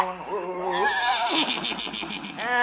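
An old horse pulling a buggy lets out a long, wavering neigh, close and fairly loud, shaking through rising and falling whinnies over a few seconds with a faint background hiss.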